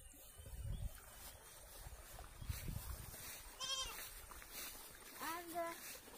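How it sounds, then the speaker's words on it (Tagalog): A goat bleats a few times on a farm in the Philippines, two wavering cries standing out near the end amid background noise and nearby talk. "We have another one goat here."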